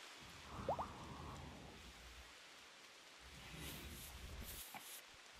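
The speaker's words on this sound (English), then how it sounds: "How's it raining if it's 25 degrees out?" Rain in the video game RimWorld during cold weather hisses softly and steadily, a faint continuous patter with a low rumble and a few brief higher tones over it.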